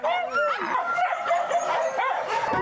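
Several dogs yip and bark excitedly in quick bursts, close by, with whining mixed in and no pauses in the commotion.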